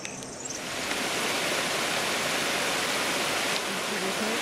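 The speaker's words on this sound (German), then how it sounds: "Dabei passieren wir den Kohlenriederbach, der als rauschender Wasserfall über eine steile Felswand in die Tiefe stürzt." The Kohlenriederbach plunges as a waterfall down a steep rock face on a mountain trail, giving a loud, steady, unbroken roar of rushing water that swells up after the first half second and holds without pause.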